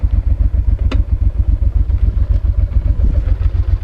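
A Honda motorcycle rides through the Atacama Desert in Chile, its engine thumping steadily and loudly close by, with a brief clatter partway through and no talking.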